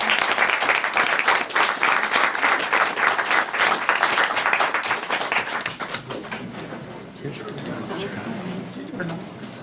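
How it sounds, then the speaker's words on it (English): Audience applause at a school board meeting honoring a teacher, a dense burst of clapping that gradually thins and fades, with voices talking underneath as it dies away. "So if you'll join me in giving a big round of applause to Jennifer."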